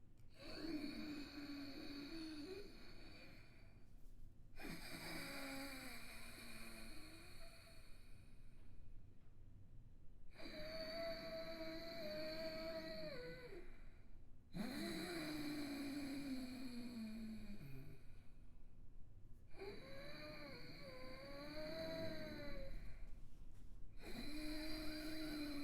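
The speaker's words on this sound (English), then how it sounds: "You're doing this deep belly Buddha breathing." Slow, deep diaphragmatic belly breathing with a slightly restricted throat, close and steady: long drawn breaths of about five seconds each, separated by brief pauses, repeating over several rounds.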